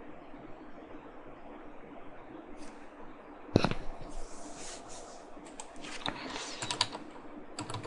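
Keys clacking on a computer keyboard, soft and sparse at first, then a sharp tap followed by a denser run of close, fairly quiet keystrokes over low room hiss.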